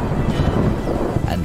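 Rolling thunder and rain from a storm over the Mara plains, a low continuous rumble with wind noise on the microphone, with no talking.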